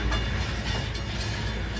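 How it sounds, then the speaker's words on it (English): A loaded BNSF coal freight train rolls past, a loud, continuous close rumble of wagons and wheels on rails with no break. "Here's the train, guys, and there it goes, right there."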